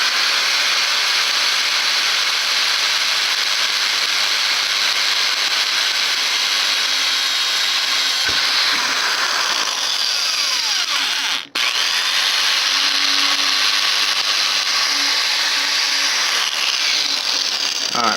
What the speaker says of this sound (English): so let's see if we can drill it out.